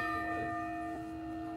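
Bell of the Sapporo Clock Tower in Japan rings out in a sustained, steady tone with layered overtones, heard alone at moderate distance without any voices.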